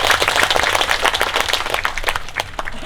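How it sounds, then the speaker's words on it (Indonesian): An outdoor crowd at an airport labor program event gives a regent a dense, steady round of applause, loud and continuous throughout without voices over it. "Kita kasih tepuk tangan buat Pak Jarod."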